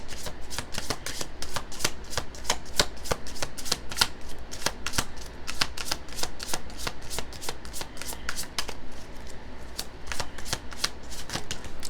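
Tarot cards riffled and shuffled by hand for about twelve seconds, a steady run of crisp snapping flicks and papery slaps at close range, with no talking.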